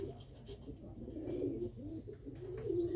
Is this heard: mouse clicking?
no